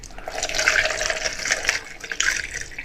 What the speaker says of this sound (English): So I'm just going to pour